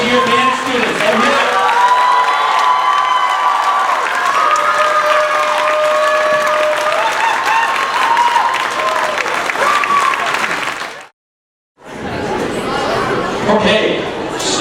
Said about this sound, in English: Another round of applause for our first year band students.